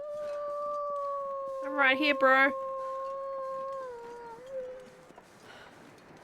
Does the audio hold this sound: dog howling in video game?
yes